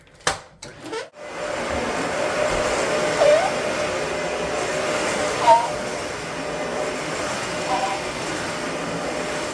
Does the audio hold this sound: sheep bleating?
no